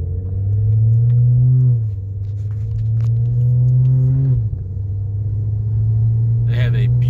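2013 BMW 535 F10 driving, a low, steady engine rumble heard from inside the car that shifts pitch twice as it changes speed, with faint clicks and rustles near the end.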